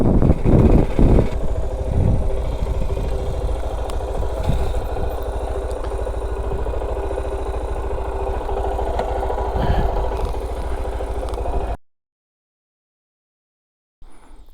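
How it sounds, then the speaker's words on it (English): A Suzuki DR 650 dual sport motorcycle engine running close by, a steady thumping idle with a few sharp blips early, cutting off abruptly near the end. "out for a ride on the DR 650 today, the Suzuki Dual Sport."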